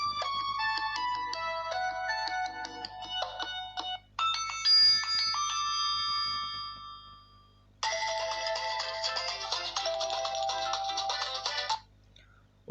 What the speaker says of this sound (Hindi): तो सबसे पहले मैं आईटेल विजन वन प्लस की कोई रिंगटोन चलाता हूँ।